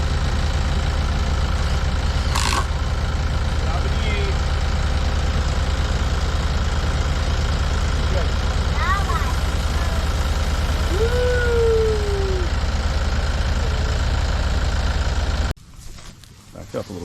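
A tractor engine idles during a bucket ride while hay is unrolled, a steady low rumble running close and loud throughout before suddenly dropping away near the end, with people talking over it.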